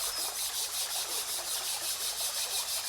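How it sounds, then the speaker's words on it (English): Palms rubbed together slowly and steadily, making a close, soft, rhythmic swishing of skin on skin with about a dozen even back-and-forth strokes and no talk. "slowly rub your palms."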